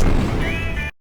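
Vehicle collision from a Terminator: Dark Fate trailer: a loud, dense crash of metal with rumbling impact noise sustained for about a second, then cut off abruptly to silence.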